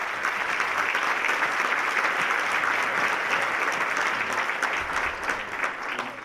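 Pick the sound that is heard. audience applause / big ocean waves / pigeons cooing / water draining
audience applause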